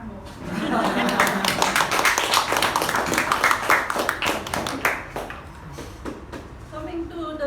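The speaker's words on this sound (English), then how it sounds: "You can clap more." Audience applause at a Toastmasters club meeting: a burst of many hands clapping, fairly close and lively, swelling for several seconds and then tapering off, with a voice speaking briefly near the end.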